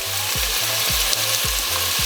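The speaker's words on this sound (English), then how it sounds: "Ooh, love that sizzle." Onions sizzling in about a third of a cup of hot canola oil in a pot over medium heat, a steady loud close fry with a rhythmic low knocking repeating under it.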